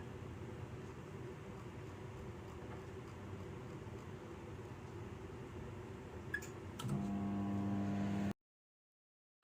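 A microwave oven runs with a bowl of water set in a metal basket, a steady low hum and fan drone throughout, a click and louder tonal buzz near the end before cutting to silence.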